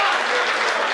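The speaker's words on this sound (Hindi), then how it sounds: "हाथ खड़े करके तालियां बजाओ जरा एक बार साहब।" An audience at a Hindi comic poetry gathering claps loudly and steadily, a dense wash of many hands close by that fills the whole moment without pause.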